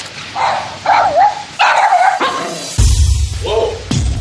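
A dog barks and yips in short bursts close by, several yelps spaced across the moment, with people talking over and between the barks.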